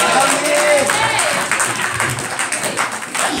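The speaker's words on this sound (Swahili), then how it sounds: "Eske mtu mmoja kuweza kushangilia neno la Bwana?" A church congregation at a Free Pentecostal Church in Shinyanga, Tanzania, cheering with scattered clapping and shouting, a loud, dense crowd noise under voices that fades slightly, then swells again.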